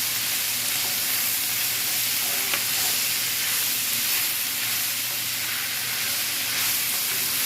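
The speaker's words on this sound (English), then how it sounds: "Just let it continue to fry." Meat sizzles steadily in a hot pan with sautéed vegetables for a Philly cheesesteak, a continuous close frying hiss with no talking.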